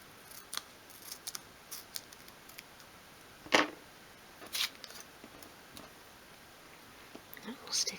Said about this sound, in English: That's my scissors, and you can trim along there again.